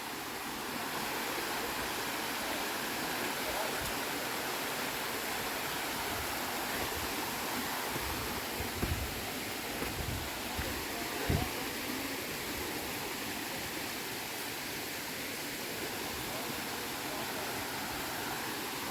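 A small waterfall near Chaloklum Beach in Thailand makes a steady, broad rushing hiss of falling water, continuous and fairly close, with a few soft bumps and no talk.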